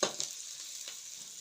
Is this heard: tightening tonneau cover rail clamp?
no